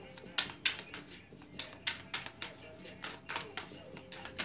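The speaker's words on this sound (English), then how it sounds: "I'm almost done shuffling" Rapid, crisp tarot card shuffling up close, a steady series of flicks and taps in quick rhythm, with soft background hum.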